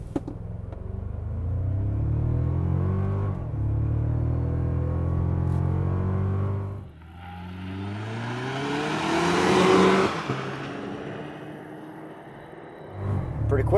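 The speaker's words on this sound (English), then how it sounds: "We're going for a drive. 2024 Toyota Tacoma." 2024 Toyota Tacoma TRD Pro accelerating without launch control, engine rising through gears with several shifts, loud and close from inside, building to a strong roar near the end.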